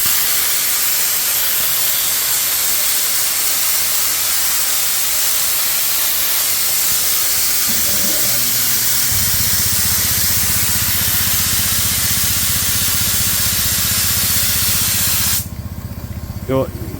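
Spray adhesive hisses steadily from an aerosol can while bonding a car door baffle, a loud continuous spray running for about fifteen seconds before cutting off abruptly.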